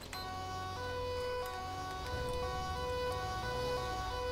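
Police siren in GTA 5 during a night patrol, a steady wailing tone that runs continuously over a low engine rumble, moderately loud and with no talking.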